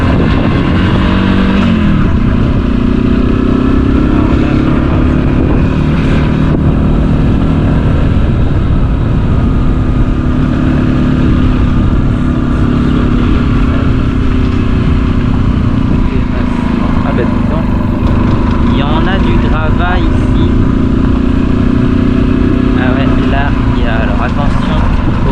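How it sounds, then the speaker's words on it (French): A carbureted motorcycle engine idles nearby on a path by Roman ruins, its steady, slightly uneven rumble running throughout while someone talks over it. "une des dernières motos à carburateur"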